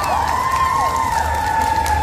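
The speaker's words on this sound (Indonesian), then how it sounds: "So, bagi tepukan yang berpuluh untuk anda" An indoor concert audience at an album tour show in Ipoh cheers and applauds steadily, a dense, continuous crowd roar with sustained high whistle-like tones riding over it for the whole stretch.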